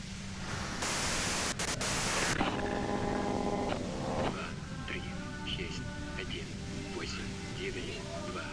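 Harsh white-noise static from the Disco Elysium video game hisses loudly in bursts for the first few seconds, then thins into a softer crackle with tonal hum beneath.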